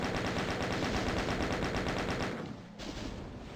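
Rapid automatic gunfire blasts demons in the classic DOOM shooter, a dense, loud burst of repeated shots that runs continuously for over two seconds, then falls away into a quieter rumble.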